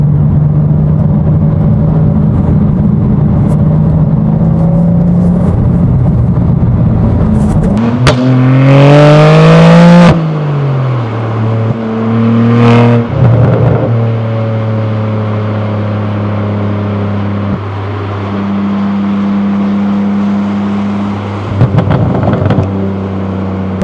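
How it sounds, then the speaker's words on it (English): A BMW G87 M2 with an AWE SwitchPath exhaust idles in Sport Plus mode, then revs sharply with a rising roar, drops back, and lets out a few popping burbles from the exhaust while settling to idle. "lot of burbles with M sound on"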